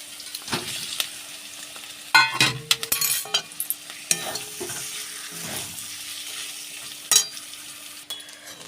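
Eggs and chopped coriander stirred in a hot frying pan, a steady sizzle under repeated scraping and clinking strokes of the spoon, close and fairly loud, with no talking.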